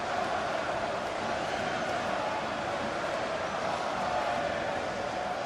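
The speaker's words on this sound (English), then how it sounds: "The crowd have been lifted." A large football stadium crowd at Old Trafford during Manchester United versus FC Copenhagen in the Champions League, heard as a steady, far-off wash of roaring and chanting that holds at an even level throughout.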